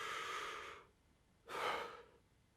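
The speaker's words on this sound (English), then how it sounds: "Then you breathe." Two deep, breathy intakes of air with the stomach muscles held tight, the first long and fading out, the second sharper after a short pause, close and quiet.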